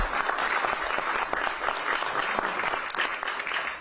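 An audience applauds Matt Szabo at a city press conference on averting layoffs. Sustained, dense clapping from a crowd continues evenly at close range throughout, with no one speaking over it.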